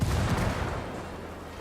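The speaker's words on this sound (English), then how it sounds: "That explosion got their attention." An explosion from the video game Ghost Recon Wildlands booms loudly, then its rumble trails off and fades away across roughly a second and a half.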